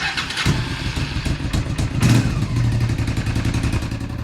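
Motorcycle engine idling close by with a rapid, uneven chuffing and ticking from an exhaust leak at the front, steady throughout.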